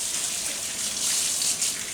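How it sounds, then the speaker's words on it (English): Steady rush of tap water as hands are rinsed clean of flour mixture in a kitchen sink, continuous and close, with no talking. "Rinse my hands."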